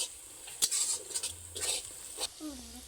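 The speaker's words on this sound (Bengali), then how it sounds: "দিয়ে আবার 1-2 মিনিটের জন্য এটাকে নেড়ে নিচ্ছি, খুব বেশি সময় নয়, গুঁড়ো মশলা রয়েছে নিচে লেগে যেতে পারে।" Mutton being stirred with ground spices in a pan, close scraping and clinking strokes of a spoon with a soft sizzle underneath, uneven in rhythm and fairly quiet.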